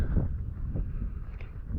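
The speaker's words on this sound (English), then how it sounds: "It's quite windy" Gusty wind buffets a tent pitched at a mountain campsite near Brandreth, a steady low rumble swelling and easing in waves close to the microphone.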